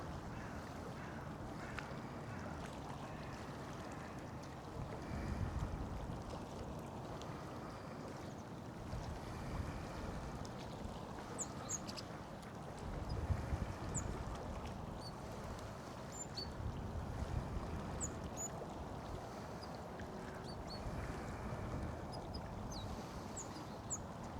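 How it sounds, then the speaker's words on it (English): Sea waves washing in a steady, soft wash of surf with gentle surges around five and thirteen seconds, heard alone at a moderate distance with some wind noise. "Let's enjoy listening to the sea."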